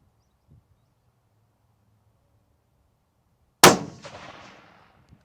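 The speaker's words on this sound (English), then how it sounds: "second shot." A single loud, sharp rifle shot from a Ruger Predator in 6.5 fitted with a Burris Eliminator scope, breaking out of near silence and decaying over about a second outdoors.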